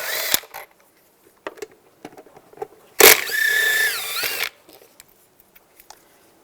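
Power tool whirring for about a second and a half as a 10mm socket backs out bolts near the air filter on a 2010-2015 Toyota Prius, with scattered metallic clicks and taps around it, close and fairly loud.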